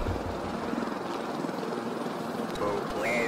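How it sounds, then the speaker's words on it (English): A helicopter in a horror video game drones steadily as a dense, continuous rotor rumble throughout, with a faint rising whine near the end. "Helicopter."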